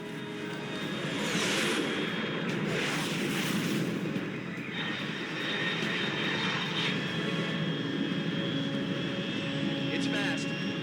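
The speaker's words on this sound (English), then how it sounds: "Control, unidentified aircraft detected." A fast unidentified aircraft roars steadily overhead at high altitude in the Metal Gear Solid Delta: Snake Eater video game, a broad continuous engine rumble with swelling passes, and talk underneath.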